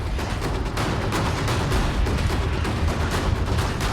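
A controlled explosion set off to trigger an avalanche at a snowy ski resort on Mount Elbrus in Russia gives a continuous dense, crackling rumble with repeated sharp bursts and no voices.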